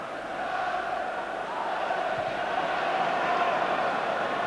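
Football stadium crowd at a Rangers v Aberdeen match, a broad sustained roar of many voices swelling slightly and holding steady, distant and diffuse.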